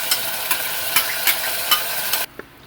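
Canned tuna and translucent onions sizzle steadily in a frying pan while a spoon stirs them in rhythmic scraping strokes about every half second, then everything goes abruptly quiet.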